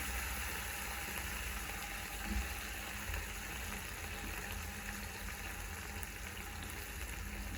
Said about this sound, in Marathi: टोमॅटो छान असं परतून घ्यायचं आहे आपल्याला